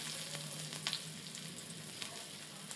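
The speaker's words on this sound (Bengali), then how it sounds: "তেলটা গরম হওয়ার পরে আমি গোটা জিরে, পেঁয়াজ কুচি দিয়ে দিয়েছি।" Whole cumin seeds and chopped onion frying in hot oil, a steady close sizzle with faint crackles and a few light stirring scrapes, no voices.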